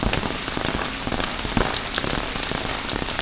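Heavy rain pours steadily, a dense, loud hiss of drops drumming on surfaces with no letup.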